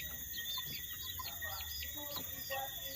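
Chickens in a yard in Jamaica clucking and squawking in short, repeated calls over a steady high whine of insects and background noise, moderately near.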